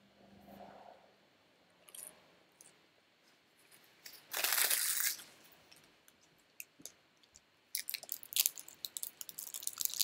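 Chewy taffy candy being chewed close up, with soft, wet mastication and some clicking, followed by a loud burst of wrapper crinkling and then sharp, crackly crinkles toward the end.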